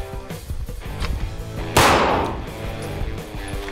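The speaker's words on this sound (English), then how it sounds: "It's gonna run a few rounds at 10 yards on a piece of steel." A Glock 45 pistol fires at a steel target 10 yards away, giving one loud sharp report with a ringing tail.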